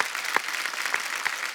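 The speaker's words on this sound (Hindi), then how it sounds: "जोरदार तालियां बनती हैं।" A studio audience on a Hindi TV comedy show applauds steadily in a soft, even wash of clapping, with a few sharper claps standing out.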